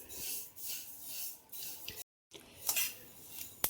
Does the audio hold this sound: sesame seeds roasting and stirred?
yes